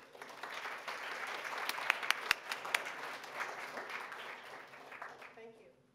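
An audience claps warmly to welcome a speaker at a panel event, steady applause swelling and then fading out over several seconds, with a few louder individual claps.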